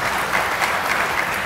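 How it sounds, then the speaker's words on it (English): Graduation audience at a dental medicine postdoctoral ceremony breaks into dense, continuous applause, a loud, even roar of many hands clapping at once. "Special round of applause for Dr. Hasselgren."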